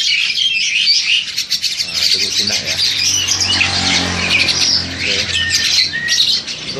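Crested mynas (Jalak Hongkong) calling from a cage, loud overlapping squawks, whistles and chirps running throughout, with a voice talking underneath.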